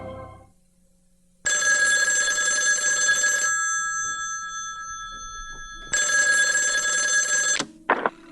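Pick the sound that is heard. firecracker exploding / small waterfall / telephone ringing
telephone ringing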